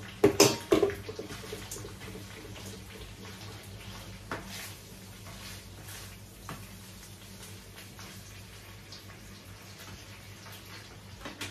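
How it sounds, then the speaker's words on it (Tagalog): Water is poured into a pan of pork binagoongan as it cooks, a short splashy burst at the start followed by quiet kitchen clatter and low simmering. "Lagyan ko lang ng tubig to."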